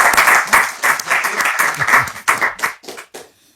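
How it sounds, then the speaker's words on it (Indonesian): An audience applauds Kiai Haji Imaduddin Utsman as he arrives at a Bisikan Rhoma Irama talk event, a loud burst of clapping that breaks into a few separate, fading claps before stopping. "tepuk tangan buat Kiai Haji Imad"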